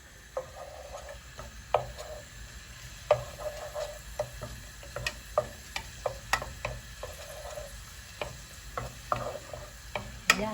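Onions for ground beef cook in a pan, giving a quiet, steady low sizzle broken by frequent sharp clicks and taps of a utensil stirring against the pan, with no voices.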